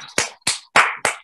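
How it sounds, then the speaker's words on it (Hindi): Four slow, sharp hand claps ring out close and evenly spaced, applause for children at an Arya Samaj satsang gathering. "सभी ताली बजा के उस बच्चों का प्रोत्साहन करते हैं हम"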